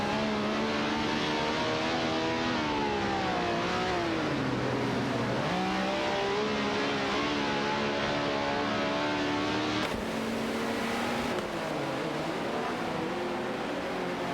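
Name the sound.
race cars engines in AI racing video game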